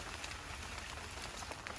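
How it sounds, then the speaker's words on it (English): Light rain begins falling outdoors over a farm field, a faint, steady patter of drops on surfaces without any voices. "It's starting to rain"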